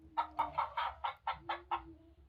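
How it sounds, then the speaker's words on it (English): A hen clucking with her chicks plays from a farm sound book as a quick series of about eight even clucks, close and distinct, with a faint peeping underneath. "There's a chicken and her chicks."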